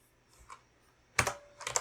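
Keys on a computer keyboard are pressed in a couple of soft taps followed by two quick bursts of louder, clattering keystrokes, close and alone.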